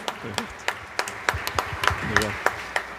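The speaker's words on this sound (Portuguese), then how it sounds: "Por isso queria pedir uma salva de palmas ao nosso Eduardo" Congregation in a church parish applauding at a Sunday Ascension Mass for Eduardo's birthday, with sparse, scattered claps spaced through the moment and low murmuring voices underneath.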